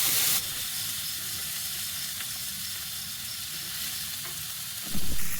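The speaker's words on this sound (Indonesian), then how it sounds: "Kita langsung goreng bumbunya dengan minyak panas dan jangan lupa kita sangrai seperti ini." Spice paste fries in hot oil in a wok, a steady, close sizzling hiss with stirring throughout and a brief louder surge near the end.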